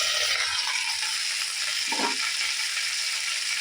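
Chicken pieces frying in a covered pan for a homemade chicken soup, a steady close sizzle holding evenly throughout with no voices.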